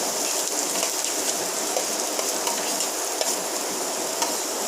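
Sliced onions fry in a pan with a loud, dense, steady sizzle and crackle, close up and continuous, with faint stirring clicks throughout and no voices.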